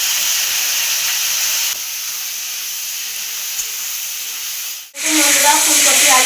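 Cauliflower and potatoes fry in a pan with a loud, steady hiss of oil. The sizzle drops a little partway through, fades almost to nothing, then surges back bright and crackling.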